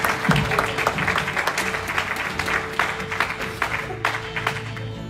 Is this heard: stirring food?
no